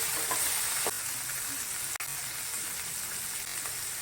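Broad beans and vegetables fry in a pan with a steady, close sizzle and a single sharp clack about halfway through.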